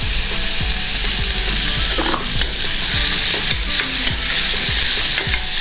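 Seasoning with green chili, red chili and salt being mixed in a hot pan for a semolina breakfast dish, a loud steady sizzle with regular rhythmic spoon scrapes against the pan throughout.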